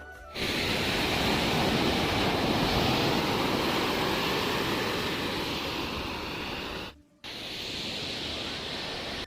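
Surf breaking steadily at Agonda beach in South Goa, a continuous loud wash of waves with wind noise, briefly cut off near the end before resuming.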